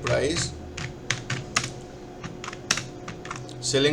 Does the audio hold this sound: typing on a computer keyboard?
yes